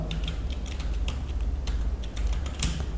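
Fingers type on a computer keyboard in quick irregular bursts of key clicks, close and clear over a low steady room hum, with no voices.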